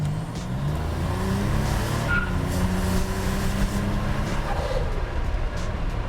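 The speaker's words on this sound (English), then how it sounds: "Let's go ahead and give it some gas again." A 1987 Buick Grand National turbo V6 revs under throttle, a loud, steady, close-up engine drone with a deep exhaust rumble that holds throughout.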